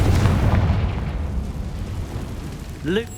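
A Confringo fire spell blasts in the Hogwarts Legacy video game as a loud, rumbling explosion that fades over a few seconds, followed by a short voiced exclamation near the end.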